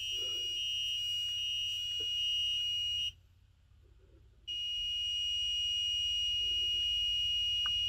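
Active buzzer driven by an Elegoo Uno R3 Arduino board gives a loud, steady high-pitched tone that cuts out for about a second and a half, then resumes solid, with faint clicks and low hum beneath.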